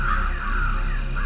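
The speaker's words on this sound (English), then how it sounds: "Why are there crows all over?" Crows caw in the horror video game The Kidnap, with harsh, repeated calls sounding close and loud over a low, steady game background.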